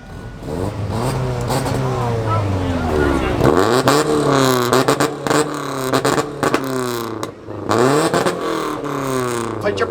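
An old beater car at an exhaust competition revs hard with a loud, raspy exhaust, the engine climbing and dropping through repeated blips close by, with people talking over it.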